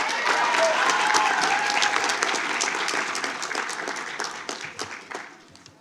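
A school board meeting audience applauds the district's students, including elementary math award winners, with a dense wash of clapping that is loud at first and then thins into scattered claps as it fades.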